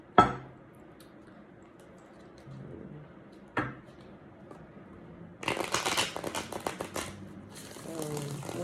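Tarot cards being shuffled by hand, a soft run of riffling, flicking card noise that grows busier in the second half, with a couple of sharper taps earlier and no talk over it.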